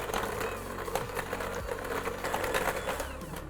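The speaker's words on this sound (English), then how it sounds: "Take a hand mixer and whisk those ingredients together." A handheld electric mixer whisks brown and white sugar with two large eggs for spice cupcake batter, giving a steady, moderately loud mechanical whir with faint rattling throughout, no talking.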